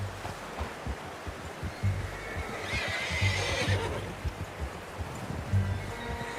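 A horse in Red Dead Redemption 2 whinnies once in the middle, a rising, shaky neigh over steady low rumbling and soft thudding hoofbeats, with no speech.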